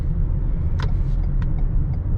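Steady low rumble of a 2017 Lexus ES350 driving, heard from inside the cabin, with a few faint clicks and rattles over the even road and engine drone.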